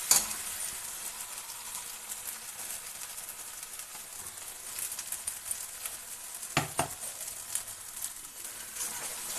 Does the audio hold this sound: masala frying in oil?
yes